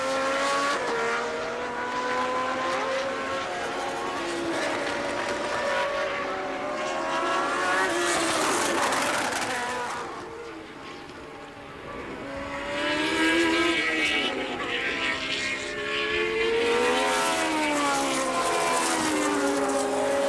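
A 1981 Formula One race car driven by Nelson Piquet at the Argentine Grand Prix screams through a lap, its high engine note rising and falling with gear changes, dipping briefly as it recedes, then surging back loud and close.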